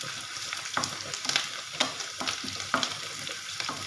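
Onion and red chillies sizzle in hot refined oil for a Punjabi kadhi, a soft continuous crackle broken by several sharp stirring scrapes and pops at irregular intervals, close and fairly quiet.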